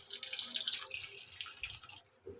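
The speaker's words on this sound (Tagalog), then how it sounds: "Tapos lagyan lang natin ng kalating basong tubig." Half a glass of water is poured into a pan of Imus longganisa over medium heat, a short splashing pour with light trickling and dripping, then a brief clink at the end.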